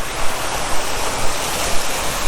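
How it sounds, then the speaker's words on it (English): Water from a fountain splashes and rushes in a loud, constant roar, close by, with no voices. "it's always lovely to hear the sort of sound of running water"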